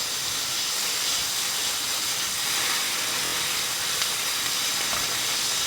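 Bacon fries in a pan with a constant, even hiss and sizzle of rendering fat, heard up close and alone.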